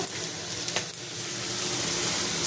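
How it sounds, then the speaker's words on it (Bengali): Vegetable stems with potato sauté in hot oil alongside tangra fish, giving a continuous close sizzle and crackle with a brief stir partway through. "ডাটা কষানো হচ্ছে।"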